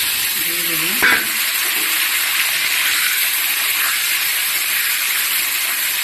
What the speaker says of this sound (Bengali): এখন কড়াইতে দিয়ে ভেজে নেব। আমার তেলটা এখন গরম হয়ে গেছে। পিস পিস করে কাটা ডিমগুলো দিয়ে দেব।